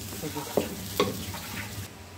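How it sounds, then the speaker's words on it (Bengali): Spiced food sizzling in a pan while being stirred, a steady low fry with a couple of sharp scrapes of the spoon, fairly faint throughout. "এখন ভালো করে ভেজে নিব"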